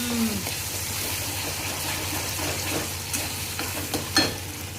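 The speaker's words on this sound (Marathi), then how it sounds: "जो मसाला बारीक केलाय ना मी तो मसाला टाकते याच्यात" Ground masala paste hits hot oil in a pan while making a brinjal rassa curry, giving a steady, continuous sizzle with light stirring scrapes and a brief clink near the end, close and alone.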